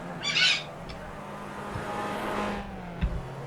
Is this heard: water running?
no